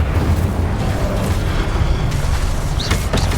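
Fiery Incendio spell blasts in Hogwarts Legacy, a dense roaring burst of booming, crackling explosion noise that fills the whole moment, loud and close with no talk over it.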